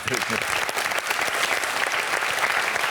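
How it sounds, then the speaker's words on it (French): A TV studio audience on a French talk show applauds for a guest, a dense, sustained wash of many hands clapping at full volume from start to finish. "Des applaudissements pour Céline."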